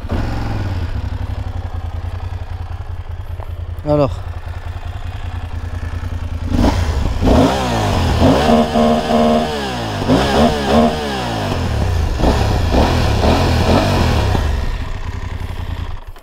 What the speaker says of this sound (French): je vous fais écouter le bruit du moteur